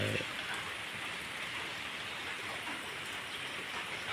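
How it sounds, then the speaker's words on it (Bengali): Light rain falls on a foggy morning near a subdistrict central mosque, a faint, even patter of drops and soft wash holding steady throughout, distant and quiet with no talk. "হালকা হালকা বৃষ্টি হচ্ছে"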